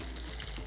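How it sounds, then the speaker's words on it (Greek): Dry penne pasta, about 250 grams, tips into a pot of boiling water in a kitchen, making a brief, steady rushing pour at close range. "οπότε έχω νεράκι εδώ πέρα που βράζει. Θα ρίξω τις πένες μου"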